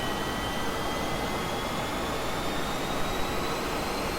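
A MiG-15bis jet engine spools up in DCS World, a steady loud roar with a faint high whine that rises slowly in pitch, sustained without a break.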